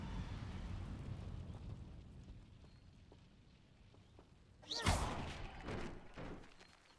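The Incendio fire spell is cast in the Hogwarts Legacy video game, bursting out as a sharp fiery whoosh with a thudding impact after a quieter stretch of ambient game noise, then a trailing crackle.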